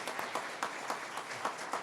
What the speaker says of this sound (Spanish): Demos un aplauso